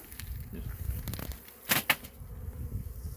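Honeybees buzz around a beehive in a Montana apiary, a steady close drone with a couple of louder passes as bees fly near.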